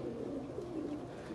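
Several breeder pigeons, a mixed flock of about eight to ten birds including Rampuri and Teddy types, coo in a low continuous murmur, close and steady throughout with no talk over it.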